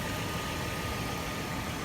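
A car engine with a knock after running on Lucas and Ceratec oil additives, heard close up as a steady, dense idle rumble with fine rapid ticking and no voices.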